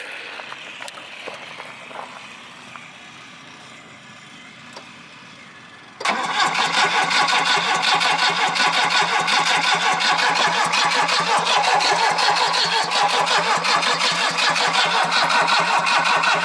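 A Volvo engine running Megasquirt engine management is started: after a quiet lead-in, the engine suddenly catches and runs loudly with a steady, rough, pulsing idle for about ten seconds, with no talking.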